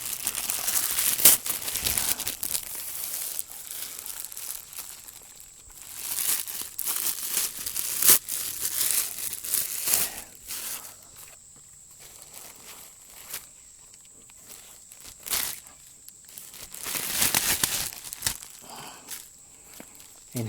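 A Gamo Bull Whisper 1300 air rifle is pulled out of its plastic wrapping, giving intermittent bursts of crinkling and rustling with quiet pauses between, close to the listener and without talk.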